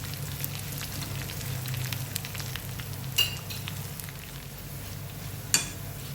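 Onions, curry leaves and dried red chillies fry in a pan for a Kerala-style Angamaly mango curry, giving a steady, loud sizzle with occasional scraping knocks as they are stirred.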